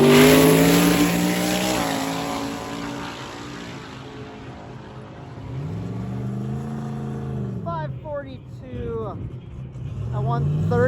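Drag race cars launch down the track at a race week event, engines rising to a loud roar and fading into the distance, with people talking over the noise.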